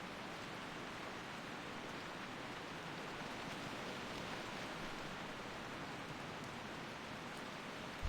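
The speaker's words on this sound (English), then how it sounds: "The rain sounds a bit loud." Steady rain hisses in World of Warcraft on the ChromieCraft Wrath of the Lich King private server, a dense, even downpour that fills the whole stretch with no other sounds.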